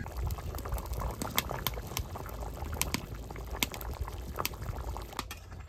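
Curry base for catla fish, made with zucchini, boiling in a pot: a continuous bubbling burble with small pops and splutters, close and steady.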